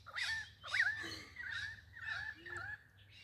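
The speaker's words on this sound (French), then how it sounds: "Les oiseaux sont présents." Birds calling outdoors: about five harsh, caw-like calls repeated at a steady pace, moderately loud, over a low background hum.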